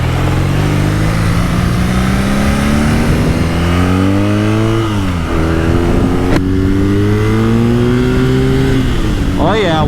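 A 2021 BMW R nineT motorcycle with an Akrapovic exhaust revs and accelerates up through the gears, loud and close, with a rising engine note that dips at each shift; a voice talks over it.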